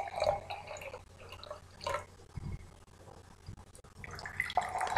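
Cold tap water pours and splashes into glasses, a continuous trickling and dripping with uneven bursts, close and moderately loud, with no talk.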